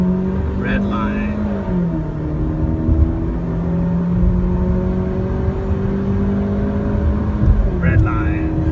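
Jeep Cherokee fitted with a turbo system revving hard to red line while accelerating on the road, a loud steady engine drone with rising tones and gear changes, under a voice.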